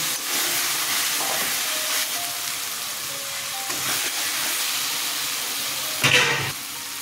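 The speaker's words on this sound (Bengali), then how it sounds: "মশলা কষানো হয়ে গেছে" Spice masala with mustard, raw mango and a pinch of sugar fries in a pan for a tangy fish curry, a loud continuous sizzle with a few stirring scrapes and a sharper clatter near the end.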